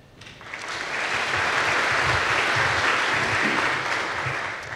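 A large audience at a university commencement ceremony claps steadily, a dense and loud wash of applause that swells and holds for several seconds, with no voices over it.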